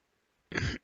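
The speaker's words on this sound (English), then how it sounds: "I have to cough." One short, quiet cough or throat clear, alone against near silence.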